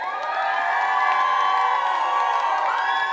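A church crowd cheers loudly for a timed game, a dense sustained roar of shouts, whoops and children's voices that holds steady for a few seconds.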